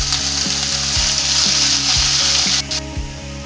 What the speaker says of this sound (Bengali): কচুর শাকগুলো ছেড়ে দেবো।